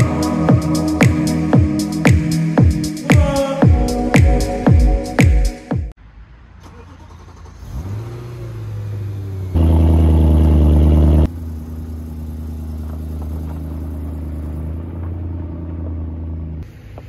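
A BMW S65 4-litre V8 and a Mercedes M113 5-litre V8 on a dyno: a loud rapid burst of revving that cuts off, then a lower steady idle rumble with a brief stronger surge in the middle.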